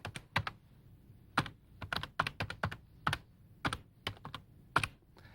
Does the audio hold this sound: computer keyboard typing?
yes